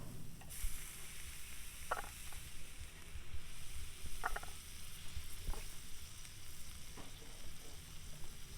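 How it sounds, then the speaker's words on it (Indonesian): Skewers of pork satay coated in peanut-spice seasoning sizzle steadily on a hot grill, a quiet, continuous frying hiss with a few faint clicks and no talking. "Kemudian kita panggang kembali."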